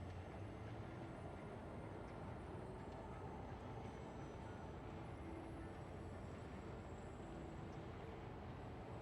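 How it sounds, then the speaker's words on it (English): A tram rolls into a station in Star Citizen with a low, steady rumble of rails and wheels, quiet and sustained with no distinct voices. "The tram has arrived."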